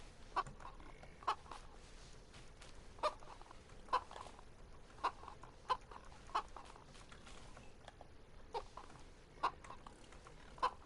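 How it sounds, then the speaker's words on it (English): Chickens in the video game DayZ cluck in short, evenly spaced clucks over a low hiss, sounding fairly near but soft. "Oh, there go chickens."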